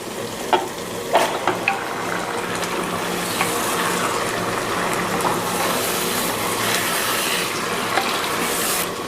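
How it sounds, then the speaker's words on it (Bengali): Two kilograms of beef stirred and cooked with ground spices in a pot, a loud continuous sizzle with clustered scraping and clinking from the stirring spoon early on. "মশলাগুলোর সাথে মাংসটাকে খুব ভালোভাবে মিশিয়ে দিলাম।"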